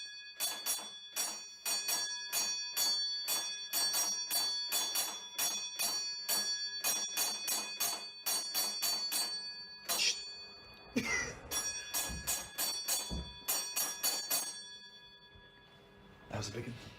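A railway signal box bell rings out coded sequences of rapid, evenly spaced metallic strokes, loud and close, with a brief pause and some clattering and handling noise in the middle before the ringing resumes.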